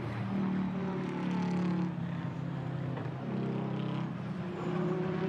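A McLaren GT4 race car and a V8 Racing Chevrolet GT4 car passing on the Paul Ricard circuit: a loud, droning engine roar that swells and shifts in pitch as the cars go by.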